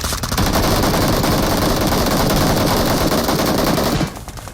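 Rapid automatic gunfire from a PUBG Mobile match rattles loud and close in a dense, unbroken burst for about four seconds before dropping off abruptly.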